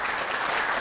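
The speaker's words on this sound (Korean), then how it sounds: "큰 박수로 맞이해주세요." A studio audience at a Korean television lecture show applauds to welcome a university math education professor. The clapping is brief, dense and steady throughout.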